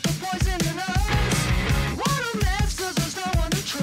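An album's title track plays as loud, dense rock with driving drums, distorted guitar and vocal lines, continuous and full throughout.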